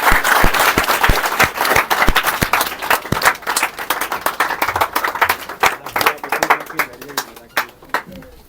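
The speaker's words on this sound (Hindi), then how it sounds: "आप सर के लिए तालियां।" An audience in a hall at a mobile repairing institute claps for a teacher on stage, loud and close, the applause crisp and sustained with distinct individual claps, thinning and becoming more scattered toward the end.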